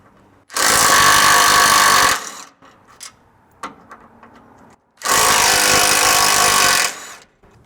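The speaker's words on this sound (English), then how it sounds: "we're going to have to move back here and remove these 2 crash bars as well, or brace bars. These are just 4 12mm bolts per bar." Power tool on a Toyota 4Runner backing out 12mm bolts from the crash bars: two loud sustained whirring bursts of about a second and a half each, separated by quieter clinks and handling noise.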